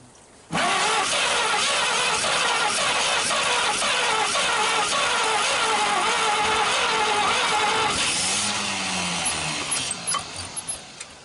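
A 1939 Chevrolet Master engine, first started after 48 years, runs steadily and loud and close up with a rough, rhythmic firing pulse, then falters and sputters unevenly toward the end.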